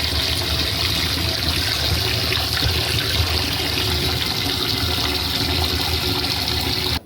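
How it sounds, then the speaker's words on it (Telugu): Rice and dal for pongal are being washed in water, with continuous loud sloshing and trickling close by and no talking. "ఇలా నీట్గా కడిగేసుకోవాలి ఇలా శుభ్రంగా కడిగేసుకోవాలి మూడు నాలుగు సార్లన్నా కడుక్కోండి"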